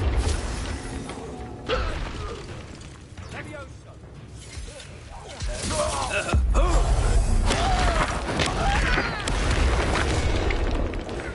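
Confringo blasting spells go off as explosions in the Hogwarts Legacy video game: heavy, booming blasts and crackling impacts over dense game music and effects, with voices talking in between.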